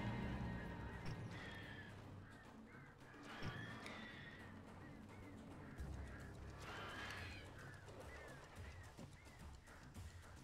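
Crows cawing repeatedly in the Alan Wake video game, harsh calls rising over a dense, continuous rumble of game ambience and noise, with a few louder bursts scattered through.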